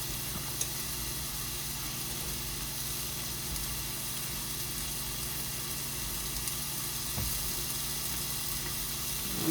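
Chopped onions sautéing in a pan for a garlic-butter crab dish give a steady, even sizzle and hiss, continuous and moderately close throughout, with no talking.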